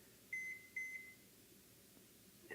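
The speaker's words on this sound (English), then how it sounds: "We're gonna stick that in the microwave, and we're gonna microwave it for about 1 minute." A microwave oven heating a wrap gives four short electronic beeps in two quick pairs, faint and close, followed by a low steady hum.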